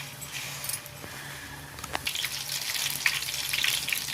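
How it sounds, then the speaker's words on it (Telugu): Chilies dipped in batter, mirchi bajji style, sizzle and crackle in hot oil, a steady close frying hiss with scattered pops and a few soft clinks. "ఇప్పుడు మిక్సింగ్ చేసిన పిండిలో మిరపకాయ పెట్టి వేడి వేడి నూనెలో వేయాలి"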